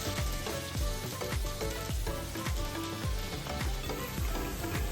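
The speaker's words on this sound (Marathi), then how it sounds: "आपण पटापट भजी कशी सोडतो तसेच मंचुरियन सोडणार आहोत" Cabbage manchurian balls deep frying in hot oil, a steady dense sizzle and bubbling held at an even level throughout, close and fairly loud, with no voices.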